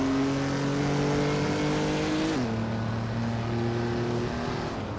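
A classic 1970 Dodge Challenger race car in a racing game, its engine holding a loud steady drone before the pitch drops sharply at a gear shift and settles into a lower sustained roar.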